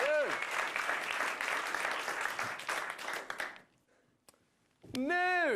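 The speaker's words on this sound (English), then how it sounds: "So give another round of applause." Studio audience applause on a talk show, dense clapping under a host's voice, then a brief pause before music comes in.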